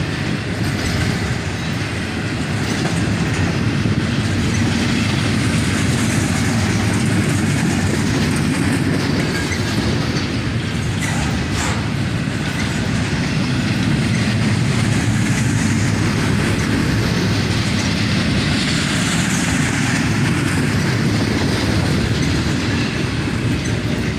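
Southbound CSX intermodal freight train rolling past: steady loud rumble with clickety-clack of wheels over rail joints and faint wheel squeal, continuous throughout, no voices.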